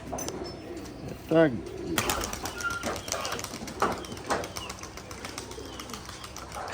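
Giribaz pigeons at a pigeon farm give a short burst of cooing and wing flaps, with faint chirps scattered through the rest, close by and under a voice talking throughout.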